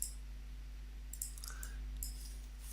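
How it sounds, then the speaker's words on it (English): A computer mouse gives several quiet, crisp clicks in an irregular sequence over a low steady hum. "So I'll just click on each of these guys"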